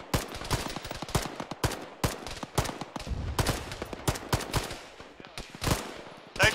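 Rapid gunfire in an Arma battle at night, a steady stream of sharp, loud shots and short bursts cracking at uneven intervals throughout, with echoing reports between them.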